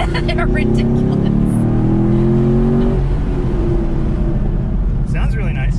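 A car engine revs hard through an open sport and track exhaust, loud and close, rising in pitch and then dropping back to a rumbling idle, with faint voices near the end.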